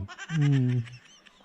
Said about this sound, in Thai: ได้ยินเสียงไก่ไหมครับ ไก่ที่นี่ขันตั้งแต่เช้ามืดหนัว ตีสองก็ขันแล้ว